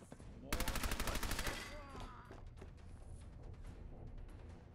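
Rapid automatic gunfire bursts out loud in the wasteland shooter game Rhonda: Tales from the Wasteland, a fast string of shots lasting about a second and a half, followed by a lingering echoing tail under game music.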